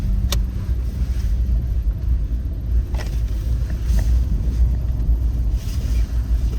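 A 2023 Fiat 500 on winter tires drives over a road, with a steady loud low rumble of tires and suspension and a few brief knocks and thumps from bumps.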